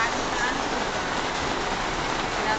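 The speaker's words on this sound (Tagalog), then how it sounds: "Ang lakas ng ulan!" Heavy rain pours down as a steady, dense hiss, loud and unbroken throughout, with no clear voices over it.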